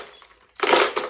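A box holding dozens of bump keys for dimple locks gives a short, bright metallic rattle and jingle, close and loud after a brief quiet moment.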